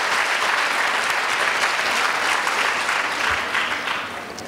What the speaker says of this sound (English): we have to give a big round of applause